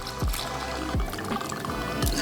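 Basil Carolina Rum glugs out of a bottle into a cocktail shaker with cranberry juice, three short gurgling pours repeating about once a second, close and clear.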